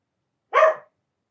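A single short bark from Dora, an older pet dog, rings out once against silence, sharp and fairly close.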